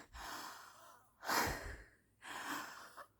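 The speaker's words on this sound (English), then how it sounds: "Because I wheeze." Three slow, heavy breaths close to the microphone, each a raspy, wheezy rush of air separated by short pauses.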